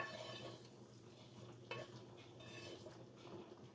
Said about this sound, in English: I'll give everything a good stir